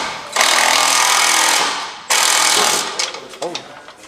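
A power tool drives a bolt during transmission and torque converter work, two loud sustained bursts of grinding whir with a short pause between them. The second burst trails off into clanks and brief scraping noises.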